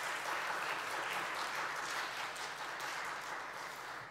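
Warm welcoming applause from an audience at a Catholic forum in Jeju, a dense, sustained wash of clapping hands that fades slightly toward the end.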